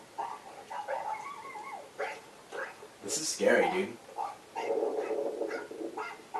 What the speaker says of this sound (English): Dude, look at this dog.